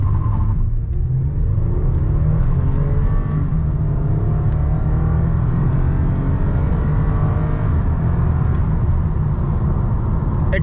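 A 2009 Lexus ES350 accelerates hard at full throttle from a standstill toward 60 mph, its engine note a steady loud rumble heard from inside the cabin, with rising harmonic sweeps climbing through the gears for about ten seconds and no talking.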